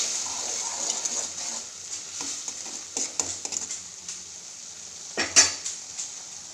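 A spoon stirs a spiced tomato mixture with coriander powder and chili powder in a pan for a black-eyed pea curry, giving soft, irregular scrapes and taps over a faint sizzle, with one louder knock near the end.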